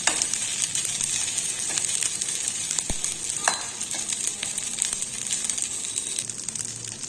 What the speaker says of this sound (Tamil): இதை நல்லா ஃப்ரை பண்ணிக்கலாம்.